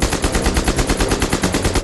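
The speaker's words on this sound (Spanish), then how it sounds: "el arma podía cambiar de disparo simple a fuego rápido con solo mover una palanca" An MP-44 assault rifle fires a rapid automatic burst, its shots cracking out in a fast, even rhythm, loud and close, with nothing else heard over it.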